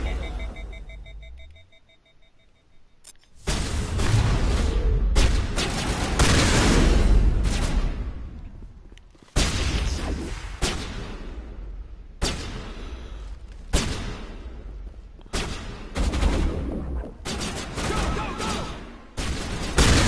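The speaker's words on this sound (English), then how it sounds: "Mass Effect shotguns are up there with Doom shotguns," Shotgun blasts in the Mass Effect video game, a series of loud, sharp booming shots at irregular intervals with ringing decays between them, following a quiet opening with faint electronic tones.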